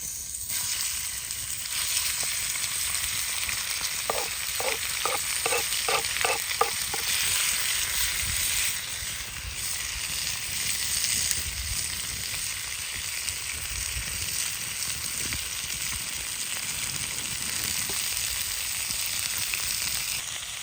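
Food frying in a pan at a forest jeep camp, a steady loud sizzle that runs throughout, with a quick series of light clicks early on and occasional stirring, no voices.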